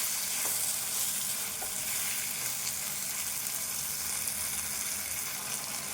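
Tomatoes frying in a pan while making a Telugu-style potato fry, a steady dense sizzle and crackle running unbroken throughout with faint stirring scrapes, close and fairly loud, with no talking.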